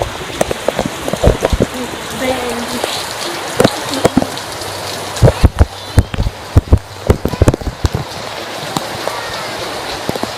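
Heavy tropical rain in the Philippines pours steadily onto surfaces with a dense hiss, broken by sharp close splashes and thuds as someone plays in it, with shouts and chatter in places.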